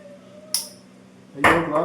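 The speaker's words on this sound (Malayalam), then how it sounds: "ഗ്ലാസ് ഡമ്മോ ഡുമ്മോ എന്നുള്ള പൊട്ടി പപ്പടായി പോയി." Glass cracks after a hot item from a pressure cooker is set on it: one sharp brittle crack, a short quiet gap, then a louder splintering burst close by in a home kitchen.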